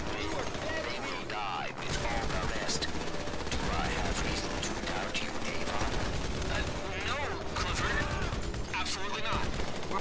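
Gunfire in GTA 5 Online during The Doomsday Heist Act 3, sustained and fairly loud, with repeated shots and bursts running continuously through the clip under a steady game soundscape and occasional voices.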